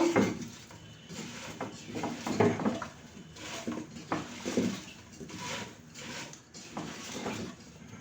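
A spoon stirs cinnamon, bay leaves, cardamom and salt in a pan on an unlit stove, with repeated scraping strokes and light metallic knocks close by, rising and falling in short bursts.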